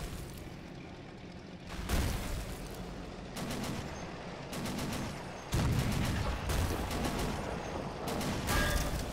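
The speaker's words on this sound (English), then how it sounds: "That sounded like a really nasty explosion." Explosions and bursts of gunfire in a World War II Normandy tank battle video game, loud blasts and rapid crackling volleys repeating at irregular intervals with no talk over them.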